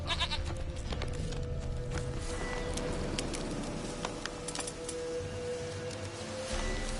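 A goat bleating in The Witcher video game, faint and distant under a steady outdoor ambience, with no talking over it.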